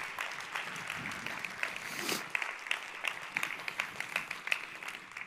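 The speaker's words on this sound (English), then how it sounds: "Let's give James another round of applause for an amazing keynote." Conference audience applauding after a keynote, a steady crowd of many hands clapping at moderate distance, fairly faint, with scattered louder claps toward the end.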